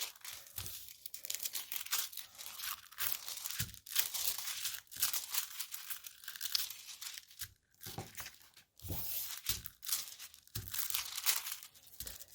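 Craft foil crinkling and tearing as it is rubbed onto a fall scrapbook layout, soft close bursts of crackly rustling in uneven, repeated strokes.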